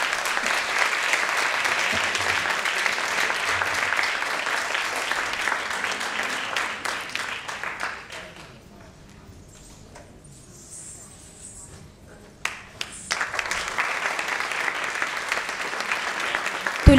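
Sustained applause from the audience at an Odissi dance festival, a dense patter of many hands that fades to near quiet, then swells again loudly.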